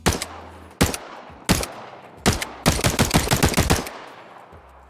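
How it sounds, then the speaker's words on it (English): Loud gunshots ring out, a few single shots spaced apart, then a rapid burst of automatic fire, each with a short echoing tail. "it actually adds to the entire sound of the gun anyway"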